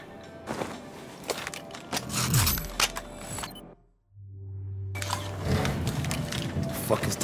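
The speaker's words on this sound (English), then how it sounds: "Wrecker, press the elevator" An elevator mechanism in Battlefield 4 grinds and ratchets with gear-like clicks, cuts to near silence for about a second, then a low hum resumes as the mechanical clatter picks up again, with voices mixed in.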